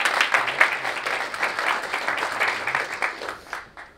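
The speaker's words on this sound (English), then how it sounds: "big round of applause, everyone." A conference audience at a Drupal camp keynote in London gives a steady round of applause, dense and sustained clapping from many hands that fades out near the end.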